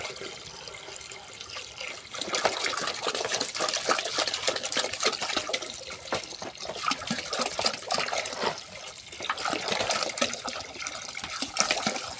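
Water pours steadily into a basin at a goat pen, with a continuous splashing rush, rising and falling slightly, close by and without talk.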